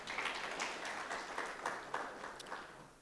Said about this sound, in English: Let's give the ED a round of applause.